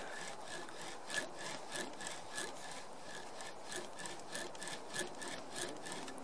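A wooden pole lathe on its trial run makes a quiet, regular rubbing and swishing, about two strokes a second, as the wood spins back and forth without a chisel.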